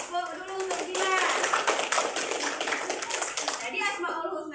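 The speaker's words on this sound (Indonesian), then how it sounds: "Tepuk dulu untuk Gilang." Classroom of children clapping for a classmate, a brisk burst of many small hands near the microphone that tapers off, with children's voices chattering over it.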